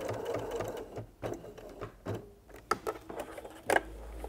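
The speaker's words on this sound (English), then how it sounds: "When I come to the end of the apron, I'm going to sew around in a box." A sewing machine stitches a fabric tool belt apron, running in short bursts with pauses as the fabric is turned to sew a box at the end, close and clear with no talk.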